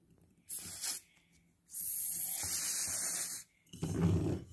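An aerosol spray can releases two bursts, a short hiss and then a longer sustained one of about two seconds, sprayed close onto an object for a bubble experiment in water.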